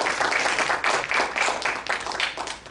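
A church congregation at an anniversary service applauds steadily, a dense sustained burst of many hands clapping close by with no voices over it.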